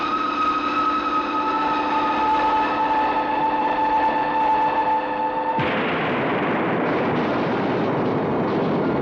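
A loud, steady whining drone of a spaceship abruptly breaks into a roaring, rumbling crash like a freight train that keeps thundering on, with no voices.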